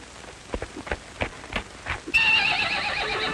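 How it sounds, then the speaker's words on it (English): A horse in a Western setting gives several snorts and hoof-like thumps, then a loud, bright whinny bursts out and carries on to the end, close and clear. "He's a mighty good-looking horse."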